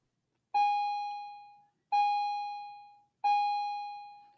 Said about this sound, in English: And that was the bell